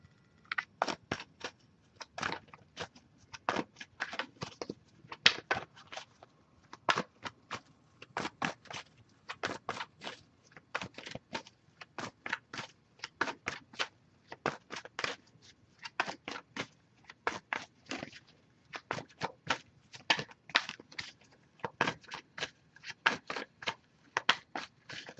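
A Wisdom of the Oracle card deck being shuffled over and over, quick soft riffling bursts in an irregular rhythm, close and quiet with no talking.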